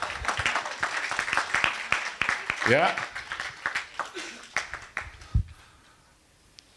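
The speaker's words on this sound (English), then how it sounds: "Round of applause." Scattered audience clapping, sparse and uneven, with distinct individual claps that thin out toward the end, mixed with talking and a short shout.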